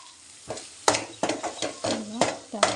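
Onion-tomato masala with added spices sautéing in oil in a pan for a matar mushroom curry, a steady close sizzle with repeated scraping stirs and clinks of the spoon.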